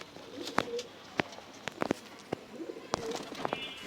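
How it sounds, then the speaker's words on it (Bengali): Pigeons cooing close by in short, separate calls spread through a few seconds, with soft rustles between them. "দেখেন ভিউয়ার্স কবুতরগুলো নিচে নামছে।"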